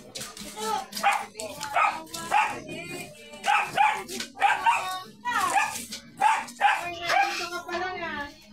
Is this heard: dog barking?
yes